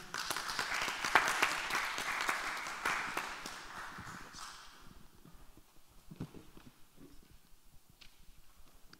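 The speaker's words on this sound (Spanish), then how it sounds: "Un aplauso." Audience at a business conference in Chile applauds to welcome a speaker, steady clapping that swells and then thins out over several seconds.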